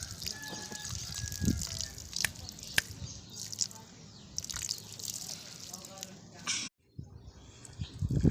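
Water drips and splashes softly as plants are watered, including water mixed with cattle dung, with some quiet sloshing and a brief pause before it resumes.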